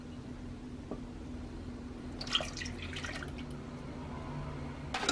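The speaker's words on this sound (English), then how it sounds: "Here goes 1 cup milk, and here it goes another cup milk." Milk is poured into a vanilla pudding mixture, a soft, close trickling splash over a quiet background hum, rising briefly in the middle and again at the end.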